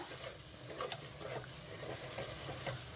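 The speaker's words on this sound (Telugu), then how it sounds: "ఇవి కూడా కొంచెం వేగాలి మామిడికాయ ముక్కలు కూడా వేగిపోయినాయి" Raw mango pieces fry in oil for a fish curry, giving a steady, soft sizzle with light stirring scrapes throughout, close by but low in level.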